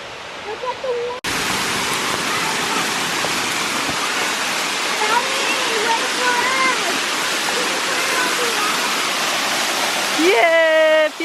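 Steady, loud roar of a waterfall on a hiking trail fills the whole clip, with a rising whistle-like tone near the end.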